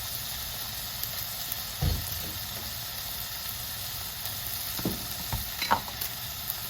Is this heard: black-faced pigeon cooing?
no